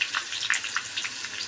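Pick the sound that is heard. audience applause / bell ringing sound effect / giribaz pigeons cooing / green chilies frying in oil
green chilies frying in oil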